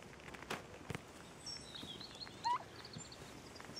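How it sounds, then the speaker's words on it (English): Turkeys gobbling in a comedic Western scene, a few faint warbling calls rising and falling, with scattered soft thumps and knocks nearby, no talk. "Can't have turkeys in a Western."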